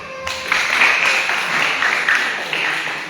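Short burst of applause from a gathered congregation or group, a brief wash of clapping lasting a few seconds after a pause, fairly close and moderately loud.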